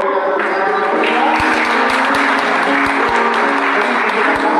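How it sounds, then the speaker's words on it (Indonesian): Guests at a church wedding blessing clap steadily in lively, sustained applause, dense and close with crisp individual claps standing out throughout. "berikan tepuk tangan yang meriah"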